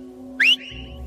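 A single short rising whistle sounds once, brief and fairly clear, over a steady low electrical hum.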